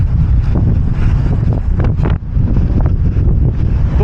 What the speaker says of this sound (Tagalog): Buti na lang malakas hangin.